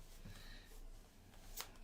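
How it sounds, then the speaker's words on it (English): Tarot cards shuffled by hand, giving a faint, soft papery riffle that runs steadily for under two seconds, ending in a brief sharper flutter near the close, alone without talk. "I will shuffle some cards for you"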